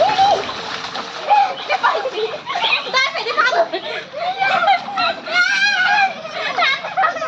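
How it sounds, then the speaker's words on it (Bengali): Children splash and play in water with lively, repeated splatters throughout, mixed with excited kids' voices and chatter close by. "পানি ছিটাও বেড়া পানি ছিটাও"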